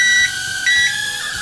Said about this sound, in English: Listen to how loud that was for the flip beep.